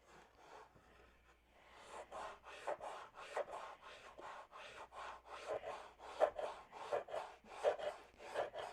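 Primer being sanded off a surface by hand, a rhythmic series of close rasping strokes that start faint and grow steadier and louder, no talking.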